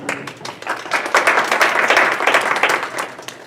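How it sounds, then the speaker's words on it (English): A small group claps at a student presentation panel. The claps start scattered and distinct, then swell into fuller, closer applause before thinning out near the end. "give yourselves a round of applause for those of you that are doing STARS right now"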